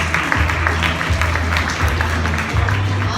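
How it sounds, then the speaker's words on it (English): At a tech meetup, the audience claps for a speaker coming up, steady moderate applause with a low droning hum beneath it and some background chatter. "All right, round of applause,"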